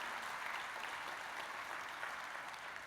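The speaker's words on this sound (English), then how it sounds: "So if you don't mind, round of applause again." Audience applause at a 2015 Pulse Conference keynote, a steady, even wash of clapping from a large crowd that holds at a moderate level for the whole stretch without dying away.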